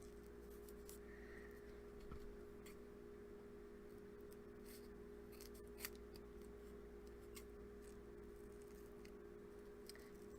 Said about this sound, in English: I'm just cutting these tiny little squares